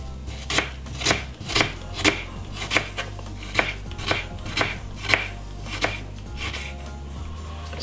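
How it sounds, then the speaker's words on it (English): A small knife slicing a red onion on a cutting board: about a dozen crisp, evenly spaced chops, close and clear, with a steady low hum underneath. "Slice up your red onion."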